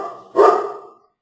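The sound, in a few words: dogs barking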